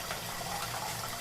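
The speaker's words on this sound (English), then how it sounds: "I'm going to run it under water again." Tap water runs steadily over a gold chain being rinsed, a continuous close hiss and splash with no talk over it.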